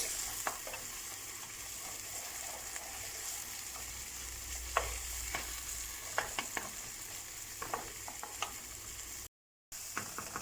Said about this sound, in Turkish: Bir yemek kaşığı salçamızı ilave ediyoruz salçamızın kokusu çıkana kadar kavuruyoruz.